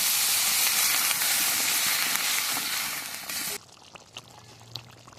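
Water hits a hot pan while cooking, setting off a loud, sustained sizzle and hiss that fades and stops abruptly, leaving a few quiet clicks and a low hum.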